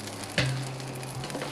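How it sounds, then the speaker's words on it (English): A freshly baked spinach dip pizza just out of the oven gives off a soft, steady sizzle and crackle, faint and close, with one brief sharp clink partway through and no talking. "You can still hear it sizzling."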